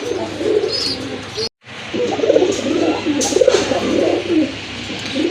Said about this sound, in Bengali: এটা হচ্ছে আপনার আকাশি কালারের ভিতরে রাজগোল্লা কবুতর